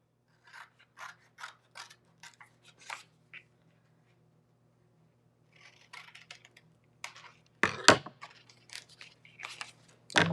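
Scissors cut out a paper piece for an autumn tiered tray, a string of crisp snips in quick bursts, a pause, then more snipping and rustling of paper close up, with louder handling near the end.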